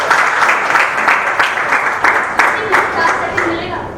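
Audience applause after a lecture in a hall, a steady wash of many hands clapping with rhythmic swells throughout, fairly close and loud.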